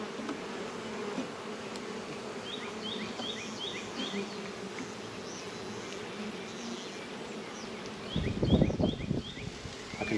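Honeybees on a hive frame bringing in fall nectar give a steady, close buzzing hum, with faint chirping in the background and a brief rustling thump near the end.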